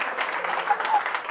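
Audience applause at a live stand-up comedy show, a steady wash of clapping from a crowd that carries through the whole short stretch at moderate level with no speech over it.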